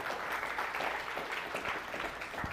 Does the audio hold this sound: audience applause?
yes